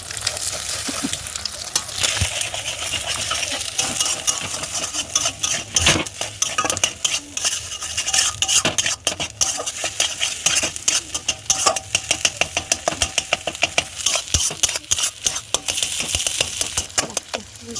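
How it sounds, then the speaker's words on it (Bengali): Egg fries in hot oil in a wok, with a loud close sizzle and constant rapid metallic scraping and clanking of a utensil against the pan, no talking heard. "এখন ডিমটা ভেজে নেবো"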